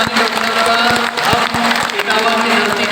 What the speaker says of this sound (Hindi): जोरदार ताली बजा करके हम